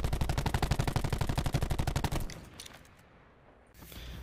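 Maddox RFB rifle with a dual zoom scope firing in Call of Duty Black Ops 4: a loud, rapid automatic burst of evenly spaced shots lasting about two seconds, then a quieter lull with faint game ambience.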